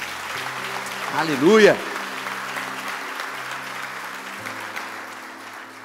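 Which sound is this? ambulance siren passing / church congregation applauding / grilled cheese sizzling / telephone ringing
church congregation applauding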